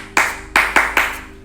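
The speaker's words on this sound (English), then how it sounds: "kids will respond clapping back." A teacher in a classroom claps a quick attention rhythm: four sharp, close hand claps with an uneven pattern, loud and clear with no talk over them.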